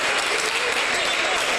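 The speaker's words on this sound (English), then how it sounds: "Let's give them another round of applause." An audience at a public Board of Education meeting claps in a dense, even burst of applause that fills the room without pause, loud and close throughout.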